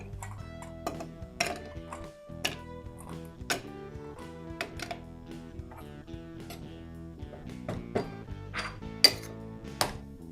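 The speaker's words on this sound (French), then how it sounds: "on va mettre quelques glaçons dans le shaker" A cocktail shaker filled with ice cubes for a gin fizz gives out a run of sharp clinks and rattles, irregular metallic and icy knocks close by with brief pauses between them.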